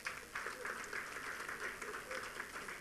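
Faint, steady applause from an audience at the opening ceremony of a 2017 gambling regulators' conference, a continuous patter of many hands heard from a distance for about three seconds.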